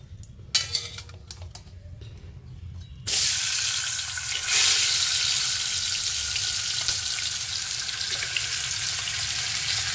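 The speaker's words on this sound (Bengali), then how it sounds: "চলো এইভাবে আমি মাছগুলো দিয়ে ভেজে নিই" Mrigal fish pieces coated in salt and turmeric drop into a hot frying pan. A few clicks and taps come first, then a sudden loud, steady sizzle that keeps going close by.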